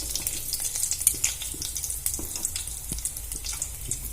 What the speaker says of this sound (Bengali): এগুলো এবার ভেজে নেব